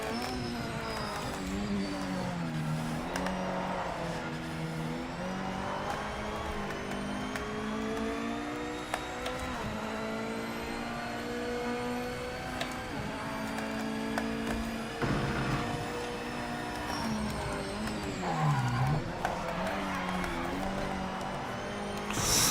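A race car engine in Project Motor Racing drones steadily at high revs for the whole stretch, its pitch rising and dipping through throttle changes during a final-lap pass, loud and continuous with no talking.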